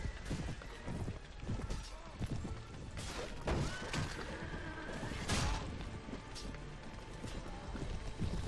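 Horses gallop with steady clip-clop hoofbeats through a dense, noisy Mount and Blade Warband medieval battle, their hooves mixed with thuds and clashes for the whole stretch.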